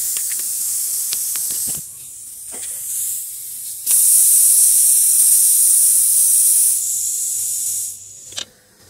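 A loud, sustained hiss of steam escapes from a pressure cooker of black-eyed peas on a solar stove for several seconds after a few clicks and rattles, then cuts off with a final clack.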